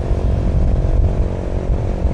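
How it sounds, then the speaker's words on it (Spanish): Vento Rocketman motorcycle engine droning steadily at highway speed of roughly 95–100 km/h while climbing a mountain road, loud and continuous throughout with rumbling low tones and no talk. "la moto efectivamente sube entre 95 y 100 kilómetros por hora"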